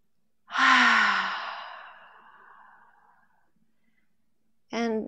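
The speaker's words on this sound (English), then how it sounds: "exhale out through the mouth and relax" A single forceful breath pushed out through the mouth during a yoga breathing practice, a loud airy sigh that fades slowly over a few seconds before a voice begins speaking.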